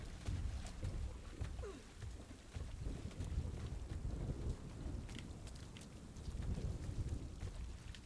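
Steady rain falls throughout the video game RiME, a faint, continuous wash of patter with low rumbling undertones and no pauses, heard alone without talk.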